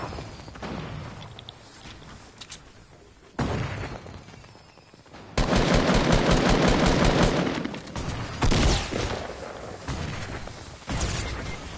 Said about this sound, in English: Where are they shooting us from?